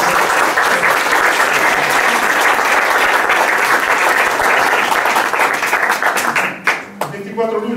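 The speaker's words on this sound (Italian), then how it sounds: "Un applauso per questo." An audience at an ANPI section meeting in Fano with Antonio Ingroia claps in loud, sustained applause that fills the room, then tapers off near the end.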